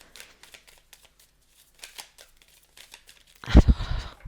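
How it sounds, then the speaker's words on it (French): Tarot cards are shuffled by hand, soft, scattered card flicks that swell into a louder burst of rustling slaps near the end, heard close with no speech. "on va demander 6 cartes"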